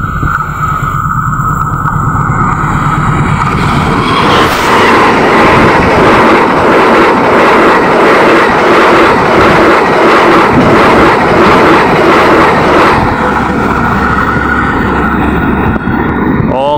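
The Taksaka passenger train passes close by on an Indonesian railway with a loud, sustained rumble and rhythmic clickety-clack of the wheels. Gusty wind and some talking are also heard.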